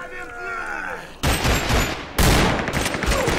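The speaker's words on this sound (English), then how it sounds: "Why are you using a shotgun?" Shotgun fire in a STALKER fan film rings out as two loud, sharp blasts about a second apart, each trailing into a noisy echo, after a quieter stretch with a voice underneath.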